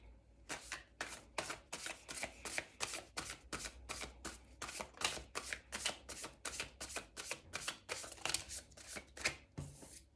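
Tarot cards are shuffled close up in quick repeated riffles, a rhythmic run of crisp papery bursts, soft and steady, with no voices.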